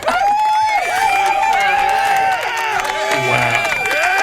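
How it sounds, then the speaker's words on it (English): Studio audience on a talk show cheers, shouts and applauds as guest Mike Juliano is brought out, a loud, dense crowd roar with whoops sustained throughout. "So everybody make a big round of applause for Mike Juliano."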